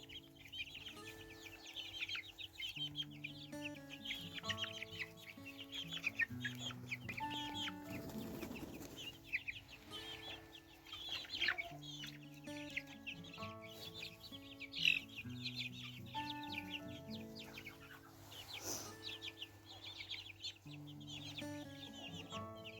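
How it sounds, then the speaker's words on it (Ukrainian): Young chickens cluck and chatter in a steady stream, mixed with a sustained musical backdrop and occasional brighter chirps, moderately loud throughout. "Ось які курчата славні."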